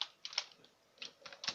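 Keys on a computer keyboard whose space bar is acting up are tapped in a few quick, faint clusters of clicks, close and quiet with no voices.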